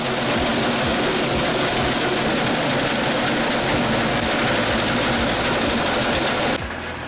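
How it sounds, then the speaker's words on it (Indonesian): A homemade machine for separating snail meat from shells runs loud and steady, a dense mechanical engine-like drone with rapid rattling that cuts off abruptly near the end. "Pemisahan keong dari cangkangnya dibuatkan sendiri mesin khusus oleh Muhammad Amin dan para anak jalanan."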